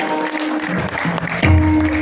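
Applause from an audience at a double-bari bhajan competition, a short burst of clapping that swells near the end amid a murmuring crowd.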